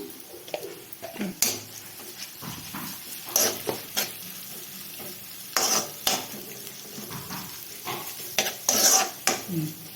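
Turmeric, ginger and garlic paste fry in a pan, with steady sizzling broken by repeated scraping and clinking stirs of a spoon against metal, close and moderately loud throughout.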